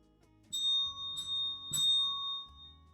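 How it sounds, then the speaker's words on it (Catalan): A high, sustained bell rings three times, each strike clear and ringing out with a long tail, heard alone at close range. "Una campana!"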